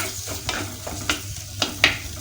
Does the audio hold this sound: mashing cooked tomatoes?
yes